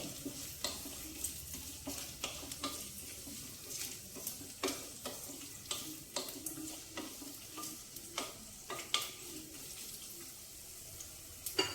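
Small diced carrots fry in a pan for a beans, carrot and coconut curry, a constant close sizzle broken by repeated scraping stirs at an irregular rhythm, with no talk.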